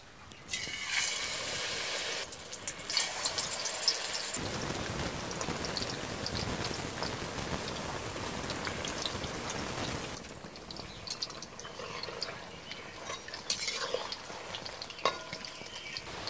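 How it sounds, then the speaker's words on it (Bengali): Battered cauliflower pakoras deep-frying in oil, a dense crackling bubble that rises sharply as a batch goes in, then settles into a steady rain-like fry with occasional pops. "এবার আমি পকোড়াগুলো ভেজে নেব।"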